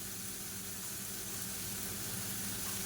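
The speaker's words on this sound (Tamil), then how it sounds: "மீடியமான ஃப்ளேமில் எல்லாத்தையும் நல்லா வதக்கிக்கலாம்." Garlic, shallots and asafoetida sauté in a pan over a medium flame, a steady, soft, continuous sizzle and hiss with no break, quiet and close.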